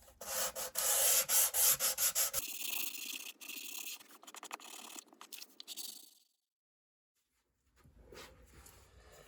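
Close, rhythmic scratchy strokes of sandpaper rubbing a wooden humidor edge, quick back-and-forth passes giving way to a steadier grind before stopping, then a soft rustle.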